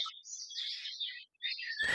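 Birds chirp and trill outdoors in quick, bright bursts, with a short gap before more calls and a closing burst of broader noise.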